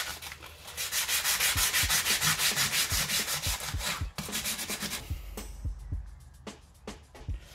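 Rapid rhythmic scraping of sandpaper rubbing back and forth on aluminum motorcycle parts of a Yamaha XS650 for a brushed finish, loud and close, slowing into fewer strokes toward the end.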